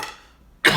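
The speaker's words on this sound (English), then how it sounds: "The coughing," A short burst of coughing from a man, loud and close, following a stretch of near-silence as an earlier cough trails away.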